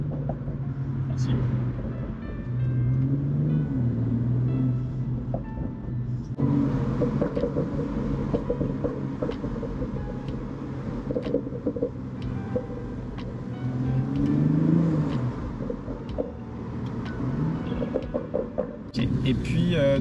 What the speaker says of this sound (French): Je sais pas si vous entendez à la caméra le pop and bang